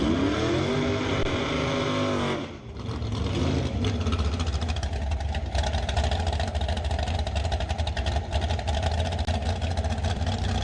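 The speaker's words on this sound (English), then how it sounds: "Back comes the quality equipment dragster." A drag racing dragster's engine roars loudly and rises in pitch before a short dip, then settles into a rough, steady drone that continues to the end.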